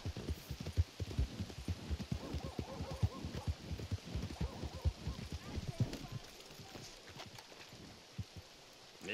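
Horse hooves clip-clopping at a steady gallop in the Red Dead Online video game, a brisk close rhythm that fades to quiet near the end.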